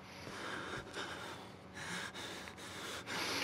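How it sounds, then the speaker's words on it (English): A character in the Outlast horror game breathes loudly and heavily, with repeated snorting, gasping breaths close up, in a rough rhythm with no speech. "Why is my guy breathing so loud?"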